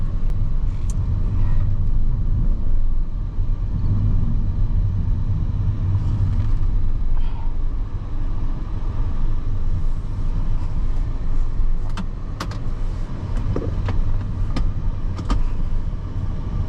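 Inside a 2023 Nissan Kicks e-POWER while driving and accelerating, a steady low road and motor rumble fills the cabin, with faint whirring and occasional small clicks and bumps.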